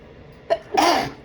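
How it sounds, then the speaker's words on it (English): A single person sneezes once, close and loud: a short sharp intake followed by a brief burst of breathy noise, with nothing else around it. "hopefully you guys don't mind my sneezing a little bit here"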